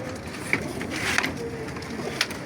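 Pigeons for sale at a crowded pigeon market in Imbaba coo in short, soft bursts against a steady murmur of background crowd noise.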